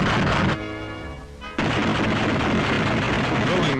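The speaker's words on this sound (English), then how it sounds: "ground crews have prepared the P-47s, loading machine gun ammunition, testing the guns" The machine guns of P-47 fighters are test-fired by ground crews in loud, dense bursts of rapid gunfire. A short lull breaks the firing before it resumes, and a narrator speaks over the noise.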